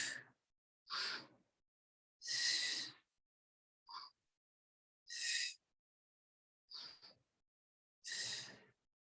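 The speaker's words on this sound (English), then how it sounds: "You want to use your breath of fire here" Breath of fire breathing during a yoga session comes as seven separate forceful exhales through the nose, each a short breathy rush with quiet gaps between, close and fairly soft.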